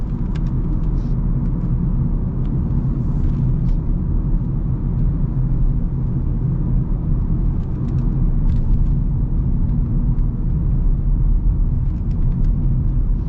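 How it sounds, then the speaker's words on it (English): Road noise fills the cabin of a 2026 Honda Civic LX while driving, a constant low rumble and tire drone with faint occasional ticks above it. "Do get a bit of road noise"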